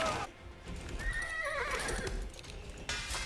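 A horse whinnies amid hoof clatter from mounted horse archers in an Age of Empires 4 battle between the Rus and Abbasids, a clear neigh in the middle over low battle noise.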